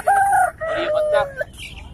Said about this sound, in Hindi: है भाई, देसी मुर्गी है।